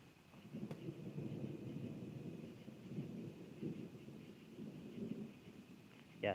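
Thunder from a Kansas evening thunderstorm rolls on as a continuous low rumble that swells and fades for several seconds. It sounds fairly distant and faint, with no voices.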